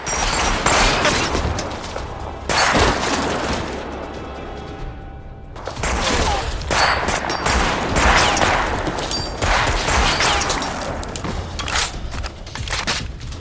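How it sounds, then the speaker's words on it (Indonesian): Heavy gunfire from an action film battle scene: sustained bursts of automatic weapons and rapid shots crackle loudly and almost continuously, with a brief lull before the barrage resumes, set against a dense roaring background and no talk. "Max dan Masaru juga mulai menembaki prajurit-prajurit itu secara membabi buta"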